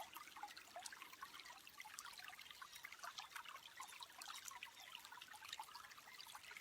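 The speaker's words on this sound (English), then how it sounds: "The sound of this trickling creek that runs into the Mary, which runs into the ocean." A small creek trickles and babbles steadily on its way toward a river, a continuous close, soft wash of running water with no voices.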